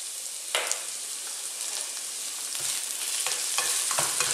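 Garlic and tomato sizzle steadily in a hot pan, a loud continuous fry with occasional stirring scrapes and clicks up close, with no voices.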